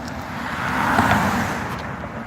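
A car swishes past on a nearby road, its tyre and engine noise swelling to a broad roar midway and then fading, with steady traffic hum underneath.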